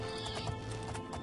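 A horse in the video game Oblivion clip-clops and neighs, with hoofbeats and a whinny sounding loudly over a dense, constant game background.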